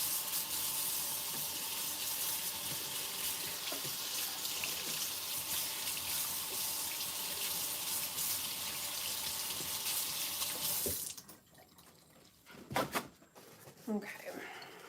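A whisk attachment from a stand mixer is rinsed under a running kitchen tap after whipping meringue batter, a loud steady hiss of water that cuts off near the end, followed by a few clanks and handling sounds.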